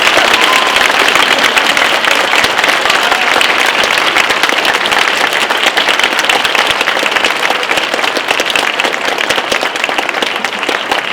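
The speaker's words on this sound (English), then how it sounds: "let's give them another big round of applause" Audience at a high school 9/11 ceremony giving a long, loud round of applause, dense steady clapping from start to finish.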